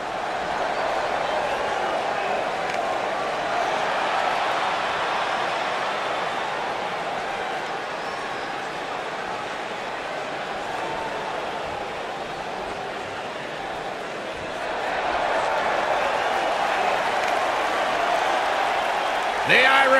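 A wrestling arena crowd buzzes before a Raw Women's Championship match, a steady distant roar of cheering that swells louder toward the end while a commentator talks over it.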